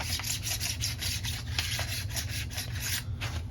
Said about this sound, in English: I'll take this little diamond sharpener, Harbor Freight, that's all you need. And just make sure there's no burrs